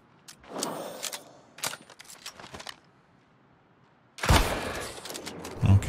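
Gunfire in the online fantasy game New World: several sharp shots crack out in the first few seconds, then a louder, sustained burst of firing and impact noise takes over near the end.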